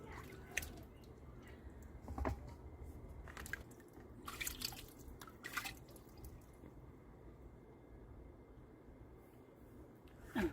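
Water trickling and dripping as fresh tomatoes are washed, faint splashes and drips coming in irregular bursts over a quiet background.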